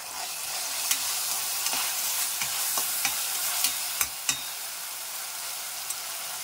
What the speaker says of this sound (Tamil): இப்போ இஞ்சி பூண்டு பேஸ்ட் போட்டுக்கலாம். இதையும் நல்லா சேர்த்து வணக்கலாம்.